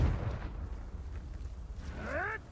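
A Confringo fire spell bursts in the Hogwarts Legacy video game, a low rumbling blast that fades into a steady roar, with a rising whooshing magical streak near the end.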